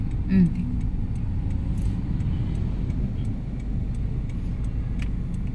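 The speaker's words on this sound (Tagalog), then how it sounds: "Going na tayo sa pagulong ng ating sasakyan." A car driving on a busy road in traffic, a steady low engine and road rumble from inside the vehicle, continuous and fairly loud with a brief faint sound near the start.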